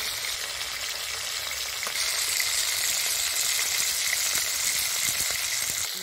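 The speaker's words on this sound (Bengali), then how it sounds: "সর্ষের তেল গরম হয়ে গেছে বন্ধুরা। এবারে একে একে মাছগুলো ছেড়ে দিচ্ছি।" Fish sizzle steadily in hot mustard oil in a pan, a continuous crackling hiss that grows slightly louder partway through, with occasional faint clicks and no talking.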